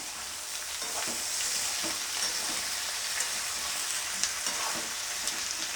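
Onion and potato pieces sizzle steadily in a pan for soybean-potato curry, with a constant frying hiss and soft scraping stirs recurring every second or so, close and moderately loud, with no voices.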